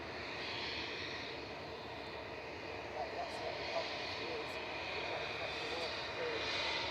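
Turkish Airlines Airbus A321 jet in Star Alliance livery arriving at Manchester Airport at sunset, a faint, distant, even engine roar sustained throughout, with a voice talking over it.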